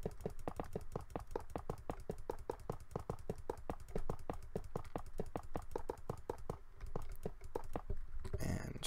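Rapid, steady mouse clicking while breaking blocks in Minecraft: a dense, even stream of sharp clicks close to the mic that keeps going for several seconds.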